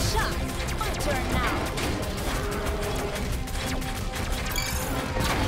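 Rapid double-shot gunfire and mechanical clatter in the co-op roguelike video game Battle Planet Judgement Day, dense and loud, with bursts of game sound effects throughout.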